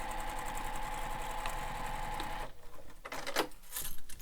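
Sewing machine fitted with a zipper foot stitching a backpack, a fast even mechanical whir for about two and a half seconds, then stopping and giving way to scattered handling clicks and rustles.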